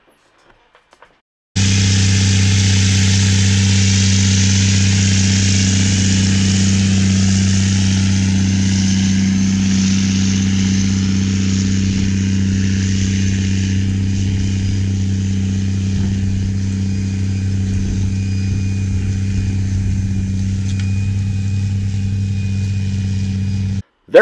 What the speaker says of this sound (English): he also has this Big Bud 52550 tractor.